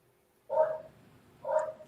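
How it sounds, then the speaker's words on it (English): Two short barks from a dog, spaced about a second apart, sound moderately loud against a quiet indoor background. "I do apologize for my dog if you can hear him barking in the background."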